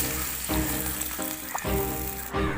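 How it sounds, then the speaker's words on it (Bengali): Water hits spiced peas frying in a pan for village-style ghugni, setting off loud, continuous sizzling and bubbling close up, with no one talking. "এবারে আমি জল দিয়ে দেব।"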